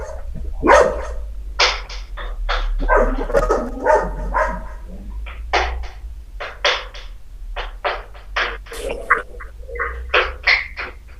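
A small dog barks repeatedly in short, sharp bursts at close range, an irregular run of yaps and barks with brief gaps, heard alone over a low steady hum.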